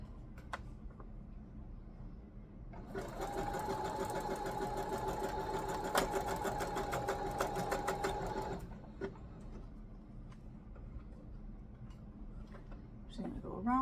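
A sewing machine stitches fabric for a Christmas sewing project, running steadily for about six seconds with a busy mechanical whir, then stopping, with quiet room sounds before and after.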